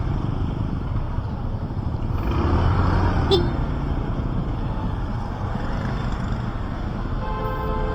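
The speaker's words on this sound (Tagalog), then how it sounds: "Siyempre, truck ng basura yan." A garbage truck on a road, its low engine rumble and broad noise swelling as it passes and then easing back into steady traffic noise, fairly near, with a brief squeak in the middle.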